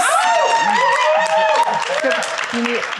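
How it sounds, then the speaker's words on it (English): An audience applauds student panelists, a steady wash of clapping running beneath a speaker's voice, with a hint of laughter from the crowd. "So round of applause for our panelists"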